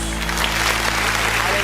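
Church congregation applauding during a worship service, a steady wash of clapping from many hands filling the room, with faint voices mixed in underneath.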